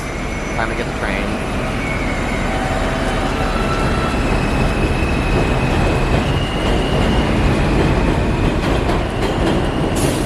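An elevated New York subway M train rumbles steadily throughout, with a continuous loud roar of wheels on track and faint high squeals, close by, with some background voices.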